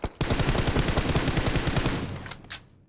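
Automatic gunfire in PUBG Mobile: a rapid, loud burst of shots lasting about two seconds, then a single later crack before it falls quiet.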